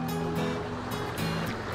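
Steady rushing water of the Touche River, a steelhead spawning stream beside a campsite, flows close and continuous with no pauses.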